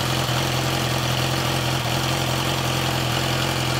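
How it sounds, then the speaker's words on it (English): A Yamaha R6 motorcycle engine idles steadily up close, a constant low rumble with a mechanical hum that holds unbroken and evenly loud throughout. "Just to make the bike idle a bit more smoother"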